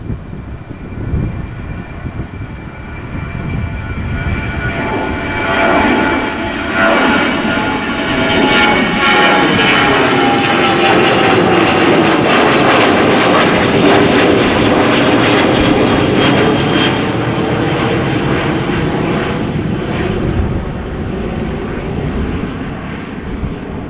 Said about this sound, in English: Boeing 737-900 going to Helsinki, Finland